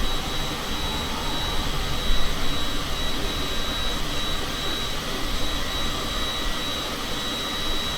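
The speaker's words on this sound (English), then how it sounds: "So we're in a Cessna, but it's not like a 170, like a business jet." Steady jet engine roar from a Cessna business jet in Microsoft Flight Simulator 2020, flying through thick cloud; a continuous, broadband whine with a faint high tone, unbroken and even throughout, no voices.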